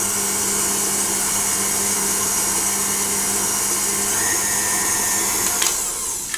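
Electric mixer steadily whirring through chocolate mint brownie batter, a continuous loud motor drone that holds an even pitch for several seconds before a brief clatter and a change near the end.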